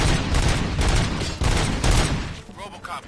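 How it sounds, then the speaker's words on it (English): A sustained burst of loud, dense gunfire rattles through a scene in the video game Robocop: Rogue City, volleys overlapping continuously for a few seconds before thinning out, with a faint voice creeping in at the end. "Gunshots? What's going on?"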